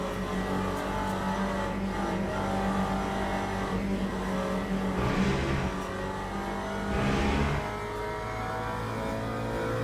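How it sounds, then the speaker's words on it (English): A McLaren race car in a racing video game at Le Mans holds a steady, droning engine note with a couple of revving swells as it laps, with other cars faintly audible around it. "the McLaren's really nice, Jake."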